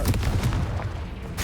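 A Confringo fire spell bursting in the Hogwarts Legacy video game, a dense rumbling blast that fills the short moment, loud and continuous with a crackling tail.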